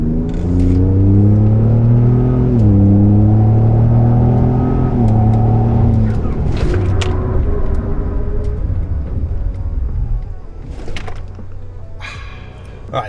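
A 500+ HP 2020 Ford Raptor fitted with Baer big brakes accelerates hard, loud and close, its engine note climbing through several gear shifts before easing off, with a voice talking over parts of it.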